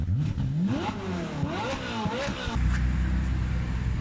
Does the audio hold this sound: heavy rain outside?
no